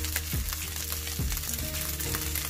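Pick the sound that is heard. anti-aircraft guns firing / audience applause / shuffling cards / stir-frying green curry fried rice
stir-frying green curry fried rice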